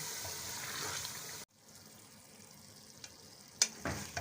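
Chicken frying with masala in a pan for aloo chicken: a soft, faint sizzle that breaks off abruptly partway, then quieter crackle with a few sharp clinks near the end.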